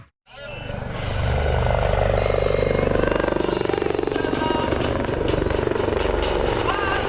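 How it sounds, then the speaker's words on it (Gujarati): An Air Force helicopter flies in a display at Air Force Station Jamnagar, Gujarat, its rotors giving a loud, continuous rapid chopping thump with a heavy engine roar that swells in quickly and holds steady and close. "રાષ્ટ્રપતિની ઉપસ્થિતિમાં એરફોર્સના હેલિકોપ્ટર દ્વારા એરફોર્સની તાકાત બતાવવામાં આવી"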